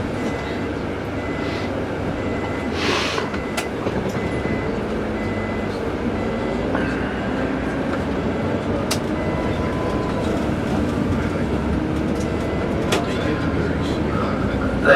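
A tram rumbles past nearby on a city street with steady rolling noise, occasional clicks and squeaks, and voices in the background.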